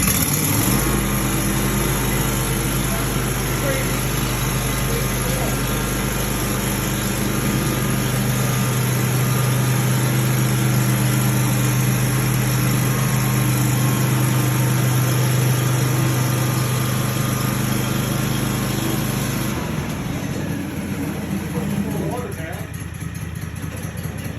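An Aztec Sidewinder floor stripping machine runs at full throttle on a VCT floor, with a loud, steady, close motor drone throughout that drops off slightly near the end.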